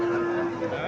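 A Sahiwal calf at a cattle market gives one loud, close, sustained moo that fills the whole moment.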